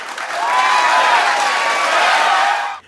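Sustained applause with crowd noise fills nearly three seconds at a steady, loud level, then cuts off abruptly.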